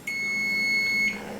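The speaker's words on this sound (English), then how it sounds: "So my timer's counting down." A kitchen timer going off while hard-boiled eggs cook, a single sustained high electronic beep lasting about a second over faint room hiss, with no speech.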